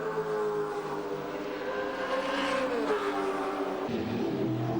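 Race car engine at Mount Panorama, Bathurst, 1994 touring car race with Commodores, droning loudly and continuously with a rising, shifting pitch as the exhaust note holds through the whole stretch.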